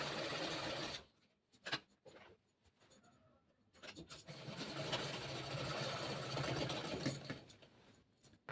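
A sewing machine runs in a steady stretch while stitching the shoulder seam of a kurti, preceded by a few short bursts and pauses, moderately loud and close with no talk over it.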